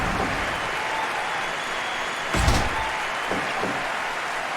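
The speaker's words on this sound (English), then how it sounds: "And the crowd are still just as into it as they were 36 minutes ago" A wrestling crowd claps and cheers steadily in an arena, a dense wash of applause at moderate distance with a brief louder thud partway through and faint crowd noise throughout.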